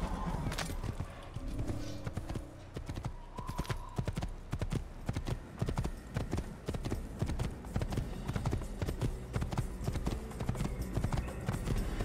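Horse hooves clip-clop at a steady trot in Assassin's Creed, a continuous even rhythm of hoofbeats running throughout with game ambience underneath and no speech.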